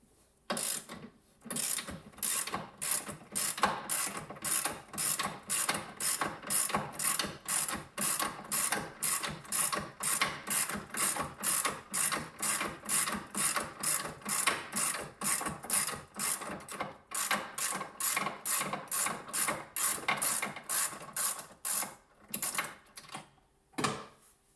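Rapid ratchet wrench clicking while a bolt retaining nut comes off a bass boat ladder mount, dozens of quick regular bursts repeating steadily and close up, with no talking.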